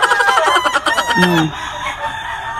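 Roosters and hens at a crowded gamefowl market, with several clucks and a clear crow rising from the flock at close range, a busy, continuous din filling the scene.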